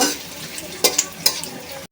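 Ginger-garlic paste fries in a pan with a steady close sizzle, broken by two or three louder scrapes of a spoon stirring it, for Bengali taro-leaf curry with hilsa fish head; no one talks.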